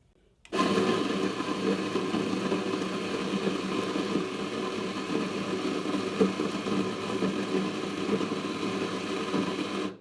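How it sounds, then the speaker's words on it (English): Coffee grinder grinding beans for espresso, a loud, steady motorized whir that starts abruptly and holds constant for about ten seconds, close and alone. "then you need to grind your coffee"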